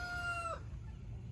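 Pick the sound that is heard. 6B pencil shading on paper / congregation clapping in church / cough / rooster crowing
rooster crowing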